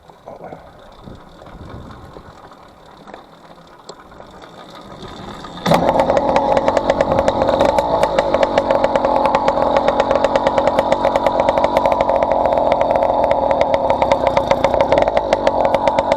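A 49mm MZ65 two-stroke motorized bicycle engine sputters quietly before catching, then runs loud and close with a fast, buzzing, steady putter for the rest of the time.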